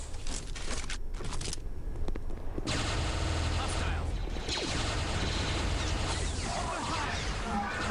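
Gunfire from Star Wars Jedi Knight II: Jedi Outcast, with rapid bursts of blaster and weapon fire crackling densely through most of the stretch, sharp and close, layered over busy game noise.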